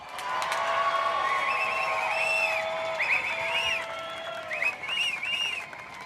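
A stadium crowd applauds and cheers for Caity Simmers of Oceanside, California, the youngest world surfing champion, at a competitive surfing title celebration. The noise is loud and sustained, with sharp whistles rising above the clapping.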